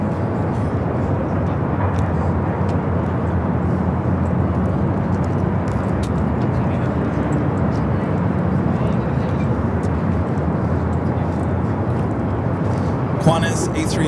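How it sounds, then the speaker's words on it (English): A Delta jet taxiing at LAX, a steady broad jet roar that holds at a constant level throughout, with a brief faint rise near the end. "already a taxi light on that Delta 76. Should be heading over here for north side at takeoff"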